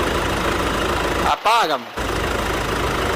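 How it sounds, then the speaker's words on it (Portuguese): A Mitsubishi L200 Triton 3.2 diesel pickup engine, recently fitted with remanufactured injectors, idles with a steady close rumble throughout, briefly masked by a short spoken remark in the middle. "olha o jeito que fica, a qualidade do funcionamento do motor"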